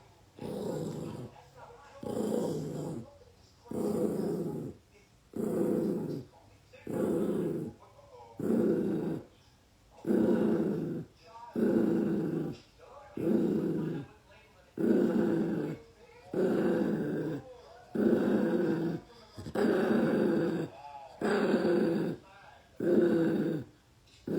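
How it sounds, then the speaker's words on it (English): A dog growls in repeated low, rumbling bursts about every two seconds, loud and close, with short pauses between each growl throughout. "He does growl when I do it, but he knows I'm just helping him."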